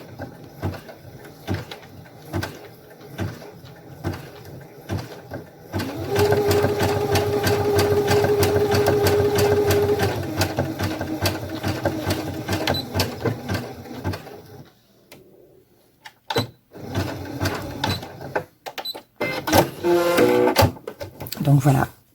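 A Brother Innov-is F420 sewing machine stitching zigzag, starting in short stuttering bursts before settling into a steady, close whirring run of rapid needle beats, then stopping and restarting in brief spurts. A voice talks around it.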